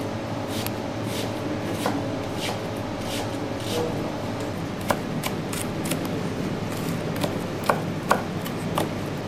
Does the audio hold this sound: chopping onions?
yes